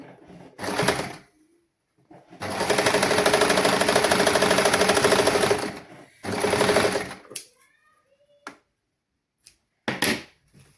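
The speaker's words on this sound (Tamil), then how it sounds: "ஒரு சென்டிமீட்டர் சீம் எடுத்து நாங்கள் மடித்து தைக்கணும்" A sewing machine stitches a folded fabric seam in bursts: a short run, a long steady whirring run of several seconds, then another short run and brief taps, with quiet gaps between.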